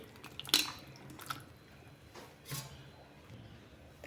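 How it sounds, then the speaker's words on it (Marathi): Mushrooms are rinsed quickly in water, making a few faint, close splashes, drips and soft squishing handling sounds separated by quiet pauses. "हे बघा अशा पद्धतीने धुवून लगेचच आपल्याला पाण्यातनं काढायचे"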